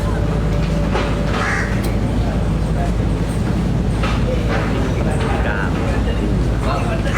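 Crows caw on an island in the Maldives, their calls faint and scattered beneath loud, continuous people talking and steady background noise.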